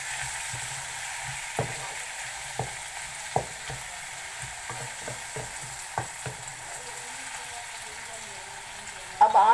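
Potatoes and tomatoes fry in a pan with a low, steady sizzle and intermittent spoon scrapes, ending in a louder clatter, while a voice speaks faintly in the background.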